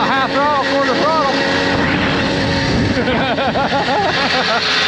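A DIY conversion kit motor runs steadily at part throttle while the rider cruises along, a loud continuous engine drone with wind noise and voices chattering over it.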